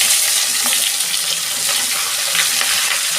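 Onion, capsicum and green chili fry in leftover pakora oil for rice chilli chicken, giving a dense, continuous, loud sizzle close by, with faint clinks of stirring and no voices.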